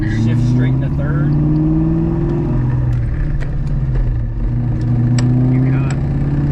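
A Ford Mustang with a damaged transmission, struggling in second gear, drones loudly from inside the cabin as engine pitch rises and dips while people talk over it.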